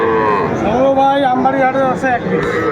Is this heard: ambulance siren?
no